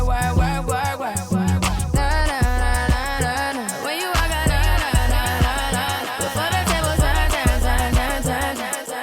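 DJ echo effect runs on a dance track with the channel fader left up, so the pounding beat and its smeared repeats pile up into a dense, continuous wash of music.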